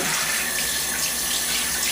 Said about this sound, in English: I've got my water running